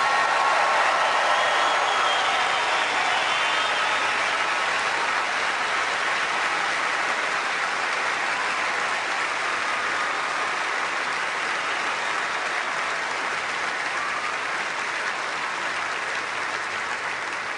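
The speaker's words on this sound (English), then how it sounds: "Let's thank and really give a warm round of applause once again to" Long, sustained crowd applause in the arena after the 2008 Australian Open women's final for Ivanovic, a steady, broad wash of clapping that stays loud and even for about seventeen seconds with no talk over it.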